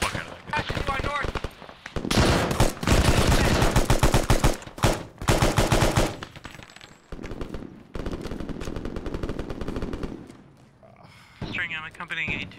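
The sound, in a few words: Stryker gunfire in the video game Arma 3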